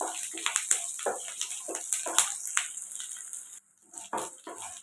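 Curry leaves sizzle in hot oil with sautéing ginger for a tomato ginger chutney. The sharp crackling and spitting bursts come close, then briefly drop away and resume.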